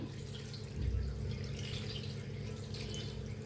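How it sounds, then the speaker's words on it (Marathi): Water is poured from close by over washed amaranth leaves inside a pressure cooker, making a steady, continuous splashing trickle that lasts throughout with no talking. "तर भाजी शिजतर एवढं पाणी ओतायचं आहे।"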